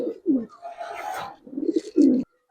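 Giribaz silver pigeons at a loft cooing, several short throaty coos in quick succession, close and clear with brief pauses between them.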